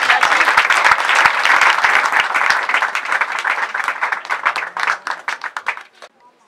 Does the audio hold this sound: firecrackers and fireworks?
no